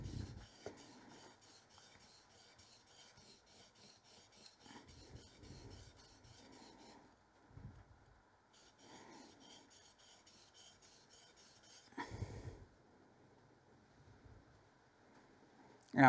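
A chisel is sharpened freehand on a sharpening stone, giving quiet rhythmic scraping strokes in several separate bursts with pauses between, close and soft, with no talk over them.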